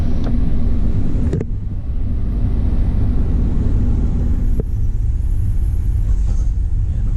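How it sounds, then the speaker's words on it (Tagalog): A car idles or runs with a suspected transmission noise coming from underneath, heard as a loud, steady, continuous low rumble with a couple of brief knocks and no talking. "Ako kung sa transmission niya, parang may tumutunog dito sa ilalim."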